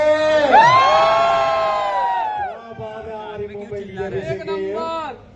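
A live crowd at a stage show in Hindi bursts into loud, close cheering, with long whoops and yells that swell, fade and then return in a second wave of shouting.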